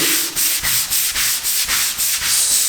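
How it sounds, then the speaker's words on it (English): A garage concrete floor being scrubbed with a brush and oil-eater degreaser, loud rhythmic strokes repeating roughly every quarter second, close and steady with no talking. "scrub it again before you wash it away"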